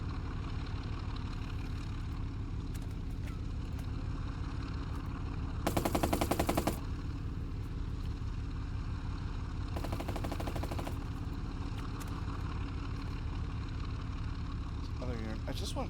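In the video game Burden of Command, a unit fires on a house: two short bursts of rapid machine-gun fire cut through a constant engine-like drone, with a voice speaking over the background.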